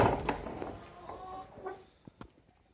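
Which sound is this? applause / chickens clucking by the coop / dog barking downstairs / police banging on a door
chickens clucking by the coop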